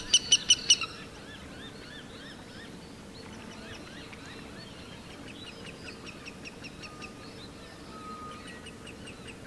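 Black-tailed native hen of Australia calling at a wetland: a rapid series of sharp repeated calls opens, then fainter rhythmic clucking notes continue over a low, steady outdoor background.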